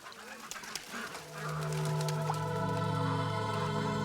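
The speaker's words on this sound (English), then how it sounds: "a flock of geese in the pond below kicked up an unusual racket." Flock of geese on a pond below raising a racket, a mix of honks and calls that swells into a loud, sustained, layered clamor.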